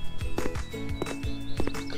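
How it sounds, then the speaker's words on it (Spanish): Hooves clip-clop from a white horse in a wedding-design video game, with a few quick hoof beats over steady game music and brief neighing. "¡Y un caballo blanco!"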